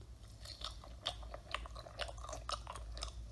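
Someone chews noisily and wetly, with repeated close, crisp crunches and smacks in an uneven rhythm against a low background hum, no talking.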